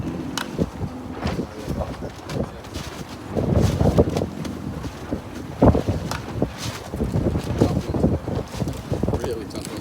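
Strong wind blows straight in at a shoreline, buffeting the microphone in heavy gusts with a rumbling roar throughout.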